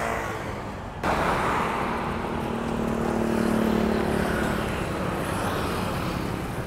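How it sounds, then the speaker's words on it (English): Road traffic in Da Nang, Vietnam, with cars and motorcycles passing close by, a steady roar of engines and tyres that rises suddenly and stays loud throughout. "Wait for the traffic to stop."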